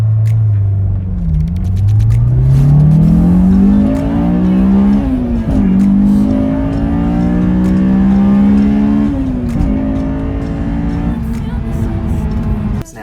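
A Honda AP1 S2000 engine revs hard toward 9,000 RPM, climbing to a high-pitched scream, drops briefly, then winds up again loud and close.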